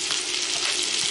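Frozen onions hit melted butter in a soup pot, producing a loud, dense, continuous sizzle that holds steady throughout with no voices.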